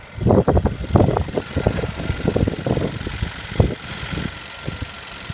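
A 2016 Hyundai Tucson Limited with a 1.6-liter turbo four-cylinder engine idles under the open hood, a close, steady rumble with a faint irregular pulsing.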